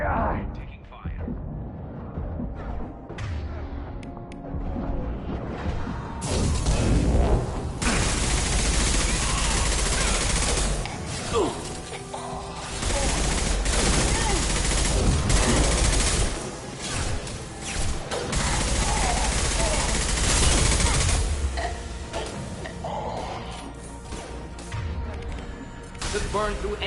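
Gunfire and crashing impacts in the VR video game Skyrim, dense and continuous over a long stretch, with rapid bursts and smashes mixed with voices talking.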